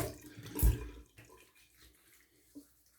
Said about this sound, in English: Let me rinse really quick.